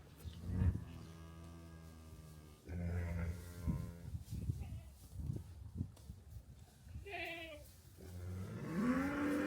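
Cows moo in a barn, with several long, low, drawn-out calls and rustling from the animals between them, all heard fairly close.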